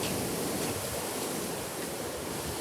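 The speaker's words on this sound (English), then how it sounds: "Those are coming up to the shore." Ocean waves wash up onto a beach shore in a steady, broad hiss of surf, fairly soft and continuous, with no voices.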